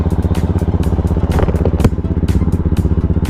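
A Bristol Classic 400i Omega motorcycle engine on a test drive runs close and loud, a pulsing, throbbing idle-to-low-rev rumble with steady rhythmic beats and some mechanical clatter.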